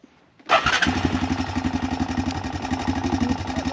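A Honda Recon ATV engine cranks and catches after a brief quiet moment, then settles into a loud, close, steady chugging idle.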